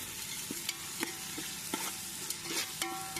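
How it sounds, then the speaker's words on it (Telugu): Chopped onions fry with coarse rock salt in a pan for Telangana-style bagara rice, producing a constant close sizzle with regular, soft knocks as a spoon stirs them. "ఇప్పుడు ఈ ఉల్లిపాయ ముక్కలను బాగా వేయించుకోవాలి"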